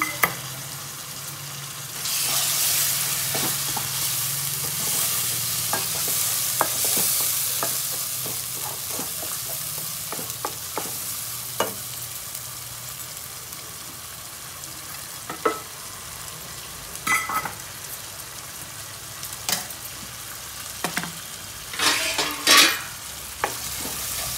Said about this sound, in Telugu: అయితే టమాటాలు, 2 టమాటాలు, ఇవి కూడా మంచిగా ఫ్రై కావాలి